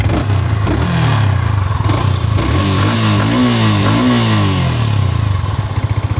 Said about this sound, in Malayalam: എൻജിൻ നോട്ട് വരുന്നത്. വളരെ സ്പോർട്ടി ആയിട്ടുള്ള ഒരു ശബ്ദമാണ് വാഹനത്തിന് നൽകിയിട്ടുള്ളത്.